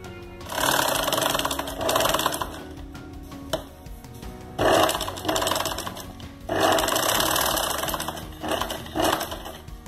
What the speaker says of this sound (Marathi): या दोघी भागांना स्टिच करून घेणार आहोत